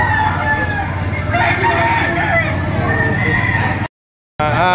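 A rooster crows loudly and nearby at a rooster market in Padre Garcia, Batangas, mixed with ongoing talk and background clucking before a sudden brief cut in the sound.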